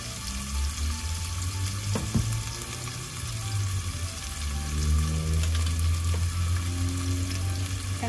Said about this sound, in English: We are going to cook the onion for 20 seconds.